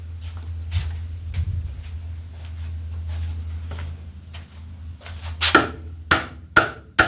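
A bolt is hammered through a tubular rear control arm on a Fox Body, with several loud, sharp metallic strikes near the end after a stretch of low humming background.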